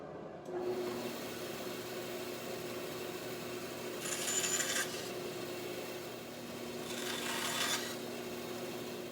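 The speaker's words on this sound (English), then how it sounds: "I just gave them a little bit of a sand on the very sharp edges here." Sharp edges of wooden spline pieces being hand sanded, two separate rasping strokes a few seconds apart, close and fairly soft, over a steady low workshop hum with no talk.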